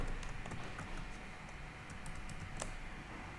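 Soft keystrokes tap out a password on a computer keyboard, a short quiet run of clicks heard alone at close range.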